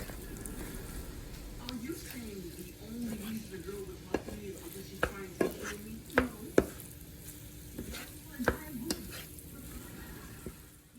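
Shrimp cooking in a pan over medium heat for tacos, a steady sizzle and fry with scattered sharp pops and clicks of stirring throughout.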